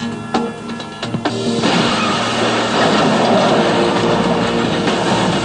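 A freight train rumbling past up close, a few metallic clicks at first giving way to a loud, steady roar of rolling cars.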